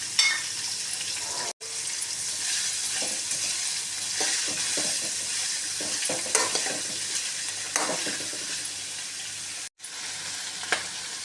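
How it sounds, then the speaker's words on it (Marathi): Finely chopped onion and chicken sausages sauté in a pan with a steady, close sizzle, punctuated by scraping stirs and two abrupt brief dropouts in the sound. "बारीक चिरलेला कांदा आणि कांद्यावर हे सॉसेजेस बारीक चिरलेले हे परतून घ्या"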